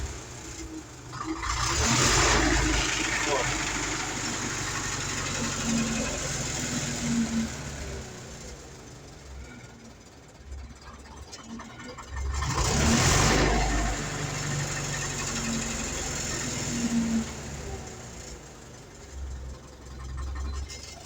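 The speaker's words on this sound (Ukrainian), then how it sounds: "Оце пустив газ, обороти тримаються." Car engine with a fault where revs fall back only after about five seconds, heard close as a sustained engine drone that swells with revving near the start and again in the middle, staying elevated rather than dropping quickly; no talking.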